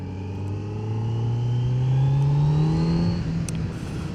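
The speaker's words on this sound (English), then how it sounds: "This is the Akrapovic exhaust." A 2025 Kawasaki Z900 naked motorcycle fitted with an Akrapovic exhaust revs, its engine note climbing and then holding in a loud, close rising drone.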